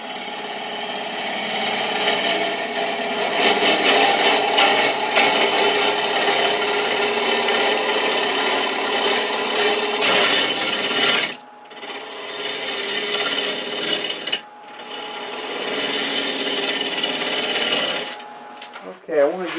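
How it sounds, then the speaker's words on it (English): A half-inch bowl gouge cutting the outside of a crepe myrtle bowl on a lathe gives a steady, loud scraping rasp with the motor hum beneath, broken by two short pauses and a fading end. "I'm using a 1/2 inch bowl gouge."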